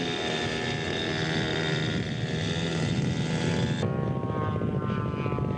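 At a scale aircraft show, the engine of a scale model AD Skyraider drones steadily and loudly with a propeller buzz. Its pitch and tone shift partway through as the plane taxis.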